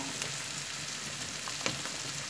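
Steady sizzle of mushrooms and onions frying in a pan as soy sauce goes in, a dense even crackle close up with a couple of small sharp spits, no voices.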